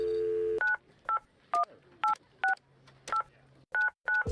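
A payphone keypad being dialed to call a family member: a steady dial tone gives way to a quick run of about nine separate touch-tone beeps, evenly spaced with brief gaps, close and clear with no talking.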